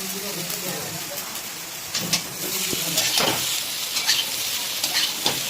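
Eggplant curry with papaya and radish, seasoned with salt and turmeric, being stirred in a sizzling pan: a continuous frying hiss with scraping strokes and clatters that grow busier, while someone talks alongside.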